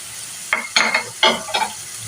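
Tomatoes fry and sizzle in a pan for mixed dal, with four short bursts of stirring and scraping over a low, steady background sizzle.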